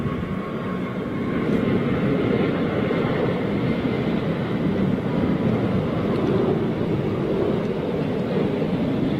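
An American Airlines Boeing 777 jet on the runway gives a steady, loud broadband roar that holds throughout without a break, mixed with some wind buffeting on the microphone.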